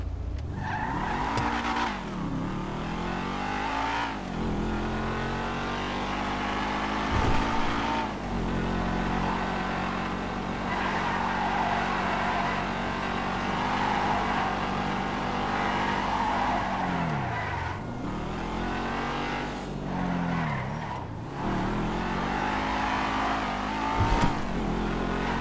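A Rapid GT convertible driven in a video game revs with a continuous engine drone, rising and dropping through gear shifts, with repeated tire squeals and skids, loud and close throughout.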